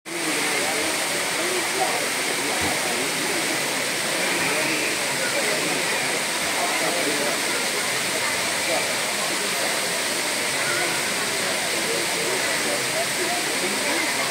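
Kutralam Main Falls in the morning, a constant loud roar of falling water with dense, even hiss that never lets up, heard close by.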